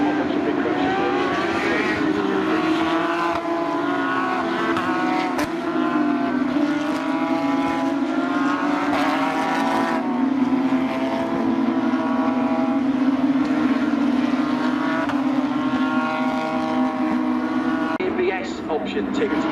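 A 2020 Porsche GT3 Cup race car with a 3.8-litre flat-six screams through its gears at Road America, a loud, rising and falling engine note with shifts, carrying steadily throughout.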